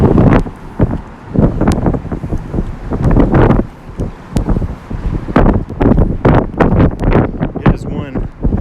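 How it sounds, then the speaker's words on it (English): Strong gusty wind buffets a microphone on a downtown street in Little Rock, roaring in loud, uneven bursts that nearly swamp everything else, with a voice barely present beneath the rumble. "the wind is just rattling your ears"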